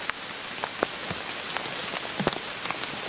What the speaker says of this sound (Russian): Дождь идет, камера мокнет